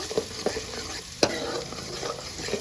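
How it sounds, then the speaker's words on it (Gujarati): Onions fry in a pan where garlic was already cooking, a close and even sizzle with a few soft scraping stirs, one of them sharper, and no talk. "હવે એમાં નાખી દઈએ ડુંગળી. તો ડુંગળીને પણ હરખેથી છે ને સડવા દઈએ."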